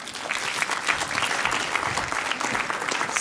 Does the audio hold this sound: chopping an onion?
no